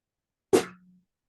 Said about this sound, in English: Sound like I heard you sneeze.